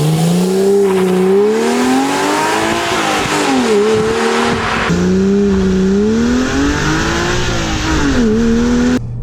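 A Porsche Cayman 987 2.9 naturally aspirated engine revs up and down continuously, its pitch rising and falling in sustained surges with a raspy, high-revving tone and no talking.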